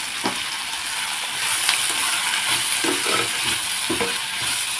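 Dried red chillies fry in hot oil for a spicy ivy gourd kulambu, giving a steady, close crackling sizzle with a few soft stirring knocks, and no voices.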